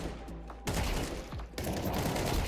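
Gunshot headshot in a shooter video game, loud bursts of gunfire cutting in sharply twice over a busy, dense game soundscape, with no talking.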